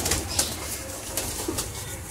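A jet-black pigeon eating grain gives brief wing flutters and soft cooing, faint and close against a noisy background.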